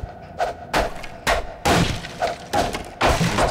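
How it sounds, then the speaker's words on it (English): Crowbar repeatedly smashing a wooden barrier in the video game Half-Life 2, about seven sharp thuds and splintering cracks in an uneven rhythm, close and loud with no talk. "Just destroy this piece of wood."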